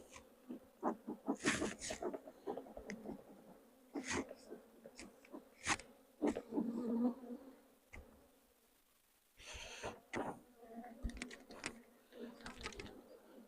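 Honey bees buzz around an opened queen-rearing beehive, a low steady hum broken by close handling knocks and clatter, with a short lull near the end.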